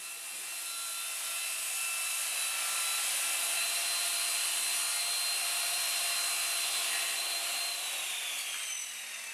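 Saw trimming a piece of MDF along a homemade track saw guide, one continuous high-pitched cutting whine, loud and close throughout.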